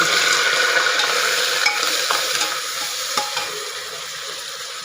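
Onion paste, ground in a mixer, fries and sizzles in hot oil with bay leaf while a spoon stirs and scrapes the pan, a loud continuous close sizzle with occasional clinks.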